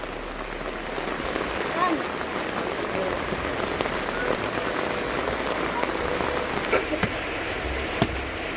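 Heavy rain pours down during a storm in Mindanao, a dense, steady hiss and patter of drops that continues unbroken throughout, with a few sharper drips near the end.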